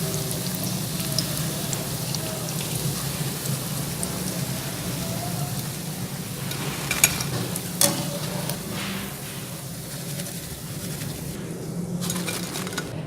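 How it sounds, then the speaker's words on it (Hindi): Mashed potato puffs fry in oil with a continuous rain-like sizzle and light bubbling, plus a few faint clinks and stirring sounds. The frying is close and fairly soft, with no speech. "इसी तरह बाकी के पोटैटो पफ्स में फ्राई कर लूँगी।"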